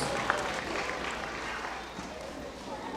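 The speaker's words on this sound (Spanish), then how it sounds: "Y los aplausos bien fuertes, pero fuertes los aplausos para los novios" Wedding guests applauding the bride and groom at a wedding in Guerrero, Mexico, a dense, steady clapping that fills the room at a moderate distance, with an MC's voice underneath.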